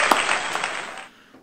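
Applause from a live audience at a comedic question-and-answer session, a steady wash of many clapping hands that holds for about a second, then drops away to near silence.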